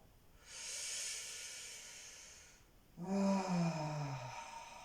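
A woman exhales deeply twice, first as a soft, airy breath and then as a longer breath that turns into a low voiced sigh, both close and quiet with silence between them.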